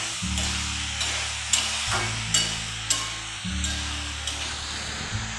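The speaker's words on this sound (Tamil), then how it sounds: "மஞ்சத்தூளும் உருளைக்கிழங்கு மட்டும் நல்லா வதங்கட்டும்" Potatoes with turmeric sizzling in a hot pan, a steady frying hiss with occasional stirring scrapes, close by, over a low background hum.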